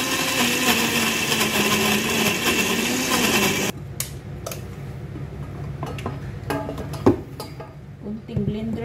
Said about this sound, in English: Blender natin ito siya guys